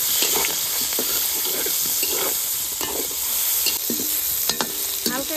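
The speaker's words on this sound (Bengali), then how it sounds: "এবার বেগুনটা হালকা ভেজে নেব।" Eggplant slices frying lightly in fish oil with a little turmeric and salt give a steady close sizzle, with intermittent stirring scrapes and clinks from the pan.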